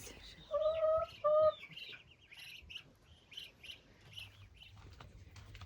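Hens in a coop at a Ukrainian village farm give two short, clear, tonal clucks close by, followed by softer scattered chirps and rustling in a quiet yard.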